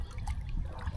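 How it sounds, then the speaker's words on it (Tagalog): A strong river current flows on a fishing trip with nets, a close, steady rush of moving water with low rumbling and trickling splashes, heard without any voices. "Medyo malakas na ang agos ngayon mga katropa."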